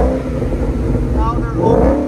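Car with a $2,000 aftermarket exhaust system, its valves open, revving: a loud, close engine roar that rises in pitch toward the end, with a voice talking over it.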